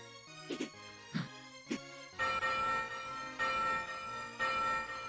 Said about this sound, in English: Let's ring the second bell,